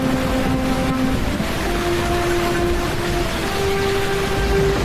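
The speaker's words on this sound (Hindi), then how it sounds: "अरे आज तो कितनी तेज बारिश हो रही है, जैसे आज के बाद कभी बारिश ही नहीं होगी।" Heavy rain and stormy wind, a loud, steady broadband roar with gusty rumble throughout, no voices.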